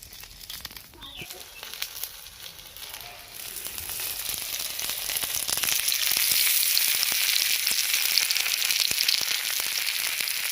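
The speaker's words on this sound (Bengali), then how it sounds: "কপিটা ভাজা হয়ে গেছে" Cabbage rolls fry in hot oil, a soft sizzle that swells into a loud, steady, dense crackle partway through and holds to the end.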